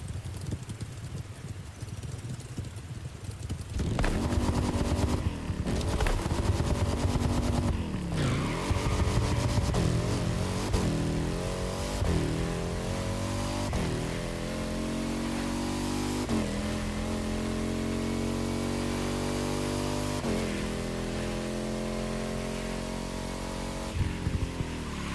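A V-twin motorcycle engine swapped into a car in The Crew Motorfest video game revs and climbs through gears, a continuous loud buzzing drone with rising and falling pitch sweeps and several sharp shifts.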